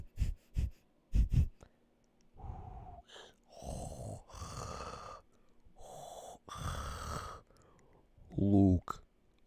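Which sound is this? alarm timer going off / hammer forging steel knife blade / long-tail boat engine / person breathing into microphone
person breathing into microphone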